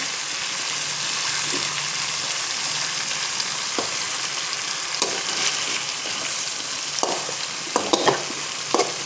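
Mackerel frying in hot oil hisses in a steady, dense sizzle close by, with occasional soft knocks and clicks toward the end as the fish is turned in the pan.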